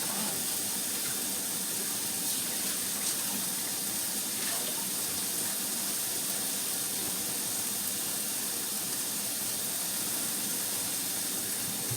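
Hot water pours steadily from a kitchen tap, a continuous close hiss and rush that stays even throughout, with no talking over it.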